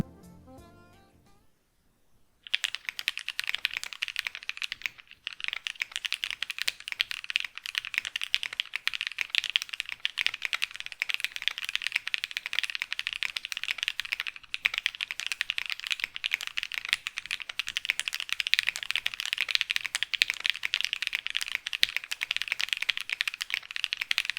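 Rapid, continuous typing on a mechanical keyboard with hand-lubed Glorious Lynx linear switches: close, even clacking keystrokes run nonstop after a short quiet start.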